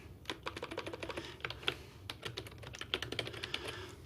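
Quiet, rapid keystrokes on a computer keyboard patter in irregular bursts with short pauses, close and alone with no voices.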